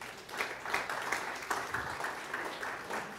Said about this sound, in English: Could we give the Lord a clap offering?